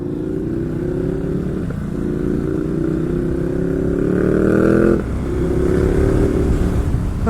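A 2020 Ducati Supersport S motorcycle engine revs up through the gears, its pitch climbing steadily with two clear shift breaks, loud and close under rider's riding.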